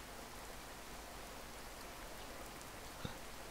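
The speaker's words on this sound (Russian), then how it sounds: "Дождь пошел." Rain falling at night in the horror video game Boogeyman, a steady, faint hiss of drops on surfaces with one brief soft knock near the end.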